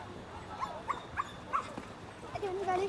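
Dogs give a few short, high yips and whimpers at close range, spaced irregularly over steady low background noise, with a voice speaking to them.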